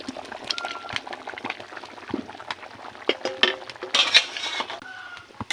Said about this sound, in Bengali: ঝোলটা ফুটে গিয়েছে